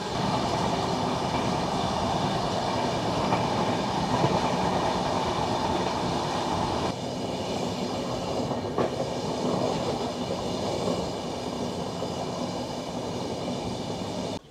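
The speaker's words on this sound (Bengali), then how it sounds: "ট্রেন এই তিলক ব্রিজ পার করার পরের থেকে এত স্লো চলতে শুরু করলো" Sealdah–New Delhi Rajdhani Express (12313) running slowly after crossing Tilak Bridge, heard from inside as a loud continuous rumble with steady wheel clatter and a brief clank partway through.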